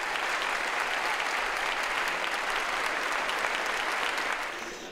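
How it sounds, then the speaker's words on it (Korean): A theatre audience gives sustained applause for the choir after its stage performance. Dense, even clapping from many hands continues for several seconds, then eases slightly at the very end. "무대를 향한 박수갈채가 쏟아집니다"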